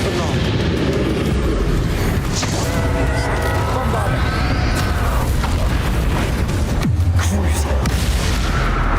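Bombarda spell blasts in the Hogwarts Legacy video game, a loud continuous barrage of booming explosions and crashes over dense game music and effects, with a heavy low impact near the end.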